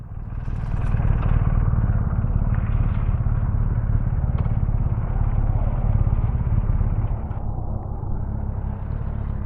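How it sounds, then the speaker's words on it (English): BMW 1250 GS adventure motorcycles ride together in a group on scenic back roads, a steady, loud engine drone with rushing wind noise from a rider's own bike, no talk. "So this is all the bikes we have."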